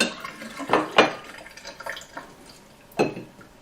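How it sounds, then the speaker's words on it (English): Water from sprouting seeds splashes out in a few short bursts, then a pause and one more splash, close by and fairly quiet. "we're going to empty the water out"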